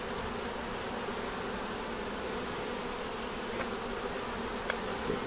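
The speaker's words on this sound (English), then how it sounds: "Bees off over here" A steady swarm of honeybees hums around a nuc box hive, close and loud, with a couple of faint clicks late on and no voices.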